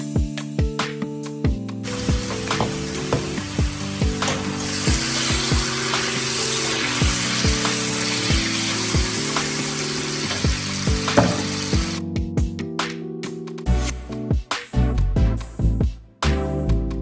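Roast pork browning in a hot pan, a continuous crackling sizzle under background music, with occasional sharp clicks and a drop-off near the end as the pan goes quiet.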